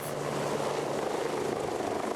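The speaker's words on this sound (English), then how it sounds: "helicopters taking off throughout the day, making the most of a break in hostile conditions" Helicopters taking off during a search and rescue in hostile conditions, a steady, loud rotor drone with low pulsing that holds throughout without pause.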